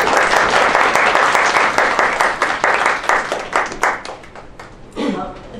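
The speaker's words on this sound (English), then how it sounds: "Please give her a warm round of applause." An audience applauds an award recipient at an International Women Award presentation in Toronto, loud sustained clapping from a sizeable crowd that thins and fades toward the end, with some voices emerging as it dies down.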